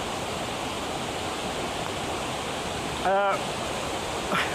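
Fast, energetic stream water rushing through Padley Gorge makes a steady, loud broadband roar that fills the whole clip, with a brief tonal sound cutting in near the end.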